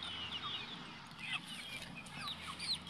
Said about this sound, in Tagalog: Kumusta kayo mga manok?